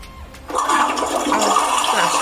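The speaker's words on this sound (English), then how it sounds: "Someone flushing the toilet or someone pouring water?" A toilet flushes, a sharp rushing surge of water that starts abruptly and keeps churning steadily to the end, close and alone with no voices.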